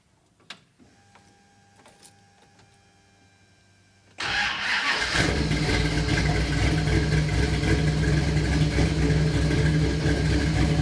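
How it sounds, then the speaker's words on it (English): A 1969 B-Body car cranks and fires up after a few faint clicks and knocks in a quiet garage, then settles into a steady, loud, close-up idle. "So I'm gonna start the car here."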